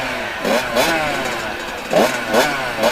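Motorcycle engine at a Supercross race, heard at moderate distance: a steady buzzing idle broken by several short throttle blips that rise sharply and fall back, with faint ambient noise around it.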